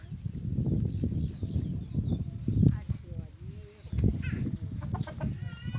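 A rooster clucks in short bursts amid nearby people talking and general outdoor background noise.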